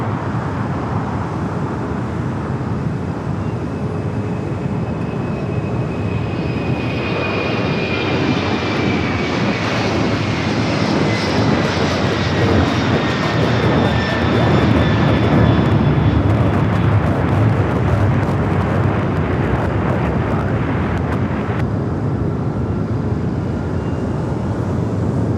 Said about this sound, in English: The 767 rolling down 25 left, heading to Memphis